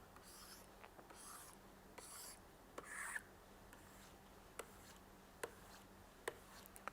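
Chalk or marker scratching across a board in short strokes with small taps between them, quiet and close, with no talk over the writing.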